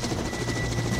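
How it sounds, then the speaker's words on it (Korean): A cargo helicopter hauling up to two tons of slung load per flight for mountain trail repair work, its rotor beating in a steady, loud, rhythmic thump throughout. "한 번에 비행에 무려 2톤의 짐을 헬기로 수송한다고 합니다"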